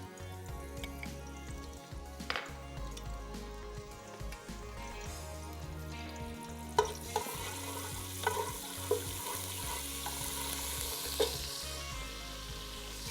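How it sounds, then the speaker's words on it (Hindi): Chicken fries in a pan with garlic paste, giving a steady close sizzle broken by occasional sharp scrapes and taps as a spoon stirs it. "और चिकन को इसमें डाल के अच्छे से फ्राई कर लेना है।"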